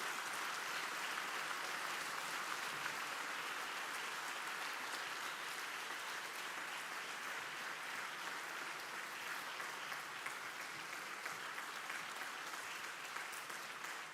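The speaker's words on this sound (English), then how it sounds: "Could you turn and give your loved ones a round of applause for all this tremendous support that you have had?" A convocation audience gives a long, even round of applause for their loved ones, a dense wash of many hands clapping that holds steady throughout at moderate distance.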